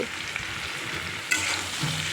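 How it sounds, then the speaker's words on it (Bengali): Papaya and potato frying with turmeric in a pan, stirred steadily with a constant sizzle and scraping. A louder stroke comes just past the midpoint, and no one speaks. "হলুদ দিয়ে কিন্তু আবার ভালো করে নেড়ে ছেড়ে নেব"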